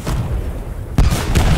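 A grenade blows up in a World War II shooter on an Eastern Front map, a sudden loud boom about halfway through, followed by a second blast-like burst amid ongoing battle noise.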